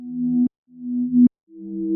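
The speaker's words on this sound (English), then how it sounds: "This is just a synth I made on 3XOSC." A simple synthesizer made in the 3xOsc plugin plays three sustained low notes with abrupt cutoffs between them, clean and alone.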